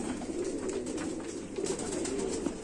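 Pigeons of the Sheikho Wale breed coo softly and steadily, a low, continuous throaty murmur at moderate distance with no talking over it.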